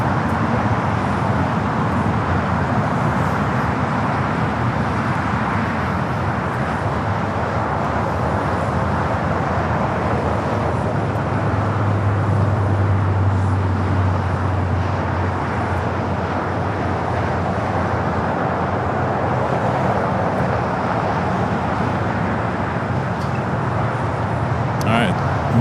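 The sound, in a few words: airplane taking off, rolling down runway 24 left at LAX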